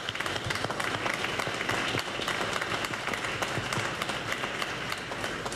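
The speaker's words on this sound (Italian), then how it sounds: "credo si meriti un applauso" An audience breaks into dense, sustained applause, many hands clapping steadily at close range for the whole stretch with no pause.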